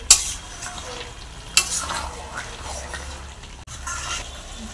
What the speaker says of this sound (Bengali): মাছের মাথাটা দিয়ে একটু ভালো করে নেড়ে চেড়ে নিচ্ছি